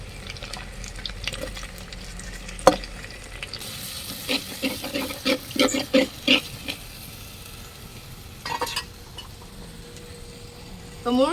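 Crushed small onions fry in gingelly oil in a pan on a wood-fired stove, with a soft sizzle under scattered stirring clatters and scrapes, busier in the middle and then settling to a quiet, steady fry.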